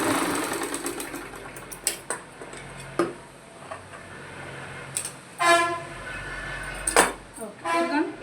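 A sewing machine hems a blouse in short bursts of rapid stitching separated by pauses, close by, while a person talks over the whirring.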